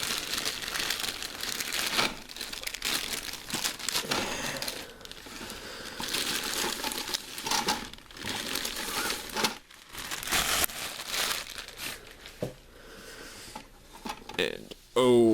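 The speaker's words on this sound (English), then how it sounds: "I'm just going to start quick off here by taking the plastic off." Plastic wrapping being pulled off a Rebor King T-Rex figure box, close crinkling and crackling in bursts with brief pauses, with someone talking at times.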